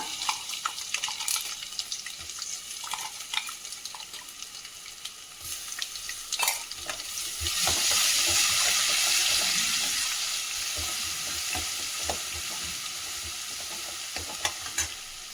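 Coarsely ground paste frying in a pan on a medium-low flame for lemon rice, with close spoon scrapes and clatter, then a louder, steadier hiss as the paste hits the oil.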